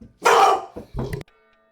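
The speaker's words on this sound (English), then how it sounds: "Oh, Sorry, that's my dog." A dog barks twice close to the microphone, a loud first bark followed by a shorter second one, then quiet.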